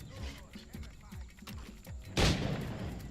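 A single loud pistol shot rings out in Assassin's Creed III: Liberation, following a stretch of soft rhythmic thuds in the background.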